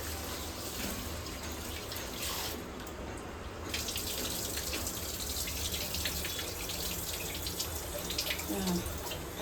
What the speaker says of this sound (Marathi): अजून एकदा तांदूळ धुवून घ्यायचे